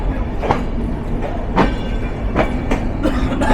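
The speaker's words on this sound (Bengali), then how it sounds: "খুলনার দিকে যাচ্ছি না, র্যাকটাকে পুশ ব্যাক করা হচ্ছে।" Madhumati Express passenger rake rolling slowly as it is pushed back between platforms, with steady low rumble and a rhythmic clickety-clack of wheels over rail joints recurring every second or so, close and continuous.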